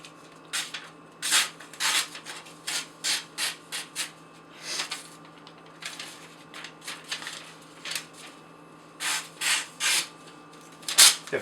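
A Microtech SF/M knife with an S35VN blade slices repeatedly through rope, producing a series of short rasping cuts in an irregular rhythm, close and fairly quiet.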